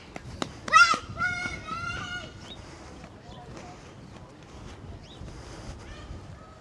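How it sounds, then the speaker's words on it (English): Geese honk in a short run of calls beside an urban fishing spot on the water, with a voice briefly present, over a steady wash of wind and lapping water. "I really don't want to get attacked by a goose."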